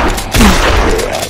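A heavy shotgun blast in the video game Zompiercer cuts in sharply over a dense, rumbling game soundscape, loud and close, then decays into a sustained roar.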